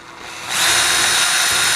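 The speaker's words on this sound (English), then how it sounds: "and just spin the drill." A power drill spins a bolt pressed against a metal file, starting with a quieter rub and then surging into a loud, steady high-pitched whir that holds to the end.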